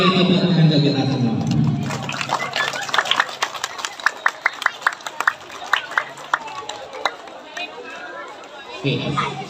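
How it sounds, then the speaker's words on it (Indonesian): Schoolchildren clap together at an outdoor school gathering, a dense burst of applause with sharp clap peaks over a background of crowd chatter, followed by more talking. "Oke, tepuk tangan untuk kita semua."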